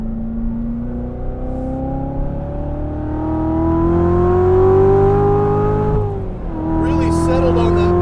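A DSC Sport tuned 2016 Corvette Z06 accelerates hard on a race track, its engine note climbing steadily through a long pull before dipping briefly at a shift and rising again, loud and close with in-car speech over it.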